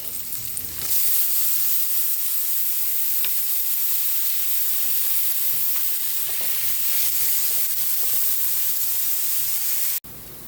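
Tomatoes tossed into a hot pan set off a loud, steady sizzle and hiss that run almost unbroken, with a few faint utensil clicks, then cut off abruptly near the end.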